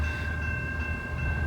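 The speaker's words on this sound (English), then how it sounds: "before this train gets here" A train approaches on a line in Georgia north of Atlanta: a steady, loud low rumble of rolling cars with sustained tonal lines above it, continuous throughout and with no talking.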